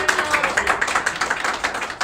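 An audience at a Latin certamen quiz competition claps in a steady, rhythmic beat, the sharp claps repeating quickly and evenly across the whole moment at moderate loudness.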